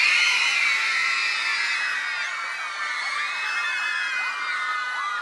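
A concert crowd of fans, largely young girls, screaming in a dense, sustained high-pitched roar of overlapping shrieks and whoops that fills the whole stretch without pause.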